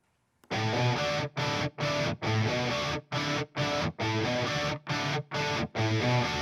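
Electric guitar through an amp simulator with no reverb, played as a series of loud, distorted sustained chords with brief silent gaps between them, dry and close.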